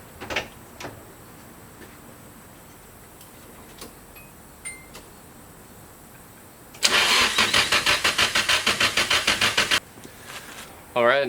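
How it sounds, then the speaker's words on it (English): An engine with its fuel relay unplugged cranks over in a rapid, even series of loud starter pulses lasting about three seconds without catching, after a quiet stretch of faint clicks and handling noise. "we can get the motor to prime up with some oil before we start cranking that thing over"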